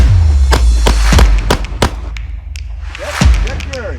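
Handgun shots crack out at close range during a concealed carry training drill on an outdoor range, about six sharp reports in an uneven string with a short pause before the last one.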